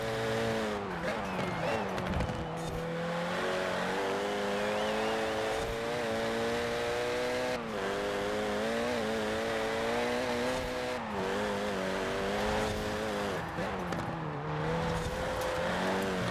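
Renault Megane RS, third generation, driven in Forza Horizon 4, its engine droning steadily with shifting revs and gear changes throughout, loud and continuous, with someone talking over it.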